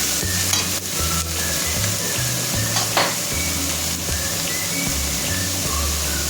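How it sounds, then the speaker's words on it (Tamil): Onions fry in a pan for a hotel-style mutton keema and are stirred steadily: a loud, constant sizzle under a rhythmic scrape of the spoon against the pan, close and continuous, with a low hum beneath and no talking. "வெங்காயம் நல்லா வதங்கணும்."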